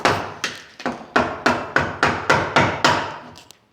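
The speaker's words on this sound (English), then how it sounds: "so we got to chisel it out by hand," Burled wood for a natural-edge table being chiseled out by hand: about nine sharp, evenly spaced mallet-on-chisel strikes ring out close and loud, each with a woody knock and a short decay, with no talking.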